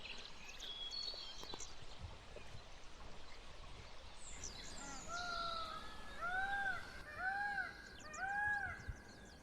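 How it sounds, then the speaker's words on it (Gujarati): Small birds such as sparrows chirp in a jungle campsite, with quiet background and a series of bright, repeated short calls growing clearer and louder in the second half, a few seconds apart. "આ ચીડિયા ચકલા જે બોલે ને એનો અવાજ ખાલી સાંભળો એકવાર"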